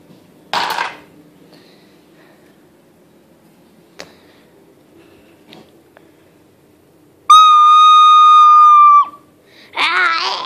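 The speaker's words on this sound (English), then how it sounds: "Sonic, wanna hear me play recorder" A recorder sounds a single sustained note for about two seconds, loud and close, after quiet stretches with a few scattered clicks and before a short burst of noisy sound.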